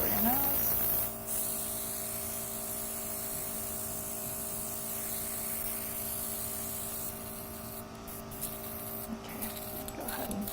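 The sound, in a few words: makeup spray sprayed over the nose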